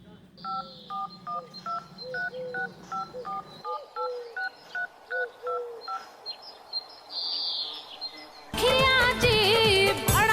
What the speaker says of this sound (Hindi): ऐसा करते हैं, दूसरे नंबर पे फोन करते हैं।